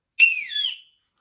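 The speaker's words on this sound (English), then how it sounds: "The review will start on my whistle." A single short whistle blast, bright and clear, lasting under a second and falling slightly in pitch before cutting off.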